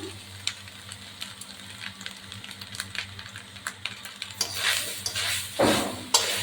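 Grated coconut stirred in a kadai for sweet coconut balls, soft dry scraping and light ladle taps against the pan, growing louder and busier toward the end.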